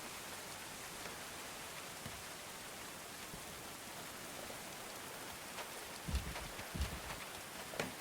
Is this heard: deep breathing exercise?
no